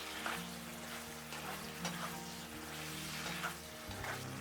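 Mapo tofu sauce with beef being stirred as it thickens in a frying pan: a quiet, steady sizzle with soft, regular stirring scrapes, close by and faint, with no voices.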